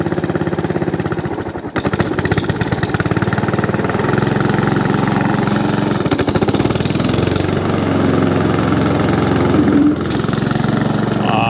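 A Honda HRX 537 or Hayter Ranger 53 lawn mower engine idles steadily and loudly close by, a continuous throbbing drone with a brief dip near the start and no talking.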